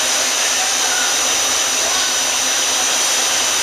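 The spindle of a Daewoo Puma 200C CNC turning center runs at 750 RPM with a continuous, even, loud mechanical whir, no talk.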